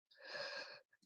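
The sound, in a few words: yawning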